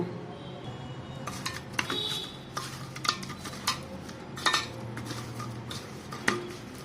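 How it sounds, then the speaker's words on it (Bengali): Rohu fish pieces being rubbed with salt and turmeric in a bowl, giving soft intermittent clinks and squelchy handling sounds with scattered sharp taps, close and fairly quiet, no talking. "তো এখানে নুন দিয়ে দিচ্ছি আর হলুদ দিয়ে দিচ্ছি, দিয়ে এটা মেখে 10 মিনিট রেখে দেবো"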